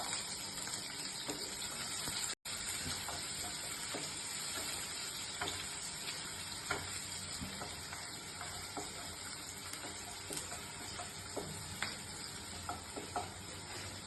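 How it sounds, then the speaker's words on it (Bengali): Chopped onion and green chilli fry in hot oil with a steady sizzle, broken by occasional stirring scrapes and clicks and one brief dropout, close and fairly quiet with no talk. "আর একটা গোটা পেঁয়াজ, বড় পেঁয়াজ আর লঙ্কা কুচি করে নিয়েছি, এগুলো প্রথমে তেলের উপরে দিয়ে দিলাম।"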